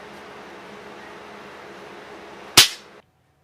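A Daisy 753 Avanti air rifle with a developing fault fires a single sharp, loud crack close by, after a low steady hum, and the shot decays quickly into silence.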